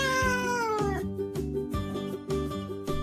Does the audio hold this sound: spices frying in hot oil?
no